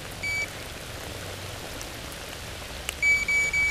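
Heavy rain falls at a lake on an old English estate during an overnight fishing trip, a steady hiss of drops on surfaces, with a faint electronic beep sounding twice and some clattering near the end.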